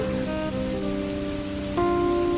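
Steady rain falls hard on a surface, a dense continuous patter that swells louder near the end, with no voices.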